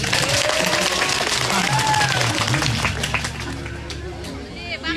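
An audience at a Balinese drama gong performance claps in a broad, continuous wash, mixed with crowd hubbub and a low droning tone, with voices murmuring throughout.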